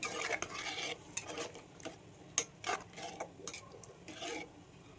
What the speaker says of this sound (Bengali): গ্রেভির জন্য এখন কিন্তু আমি পরিমাণ মতো জল দিয়ে দেবো দিয়ে কিন্তু এখন ভালোভাবে মিশিয়ে নিতে হবে